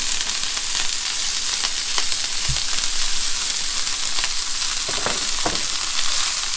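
Cabbage sizzles and fries steadily in hot oil in a pan, a loud, continuous crackle with a few soft knocks of stirring throughout.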